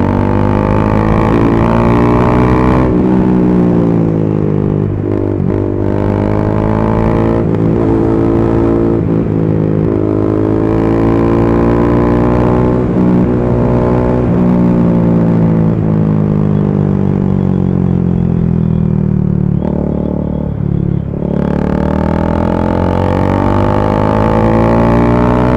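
A modified KTM Duke 390 motorcycle, fitted with performance upgrades, being ridden near Kelva beach: a loud, close engine with continuous harmonic drone that rises and falls through repeated revs and gear changes, no speech.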